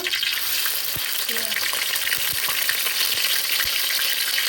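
Ground onion, garlic and ginger paste frying in hot oil with whole cumin for a vegetable and shrimp curry, a steady dense sizzle with occasional utensil taps and scrapes, no voices.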